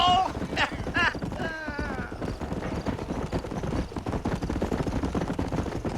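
Horse hooves clip-clopping at a steady riding gait in Red Dead Redemption on the Xbox 360, with a whinny near the start and a voice speaking over the hoofbeats.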